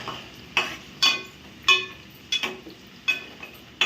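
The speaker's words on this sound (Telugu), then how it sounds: "ఉల్లిపాయ ముక్కలు కొంచెం పచ్చి పచ్చిగా వాసన రాకుండా వేగింది కదా" Onion pieces stirred in a pan, heard as a sequence of about eight distinct spatula scrapes and light metallic clinks at an uneven rhythm over a faint sizzle, close and without speech.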